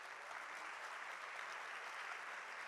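A church congregation claps for Jesus during a Christmas sermon, a steady, faint wash of applause from a distant crowd sustained evenly throughout.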